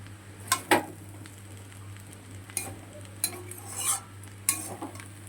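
A utensil stirs chow mein in a pan, giving sharp metallic scrapes and clinks at irregular intervals over a soft background hum and faint frying.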